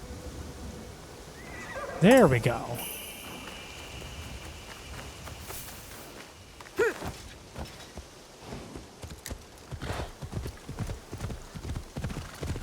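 Horse in the game Assassin's Creed Shadows gives a loud whinny, followed by steady clip-clop of hooves on a path as it is ridden, with someone briefly talking over it.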